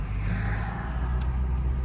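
Engine of an abandoned car that has sat in the woods, held at a steady high rev, a continuous loud droning roar with no voices over it.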